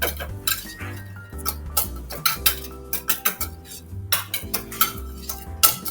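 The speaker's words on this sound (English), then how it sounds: "And kind of whisk it in a shallow dish, just to mix all the ingredients together." Brown sugar, salt and chili powder whisked in a shallow dish, with quick rhythmic clinks and scrapes of a whisk against the dish, close and steady with no talking.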